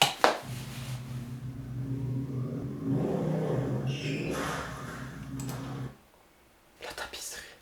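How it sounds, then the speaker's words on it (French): A motorcycle engine revs hard inside a house, a loud, steady mid-pitched roar that holds for several seconds and then cuts out, with voices heard around it. "De la moto dans un logis."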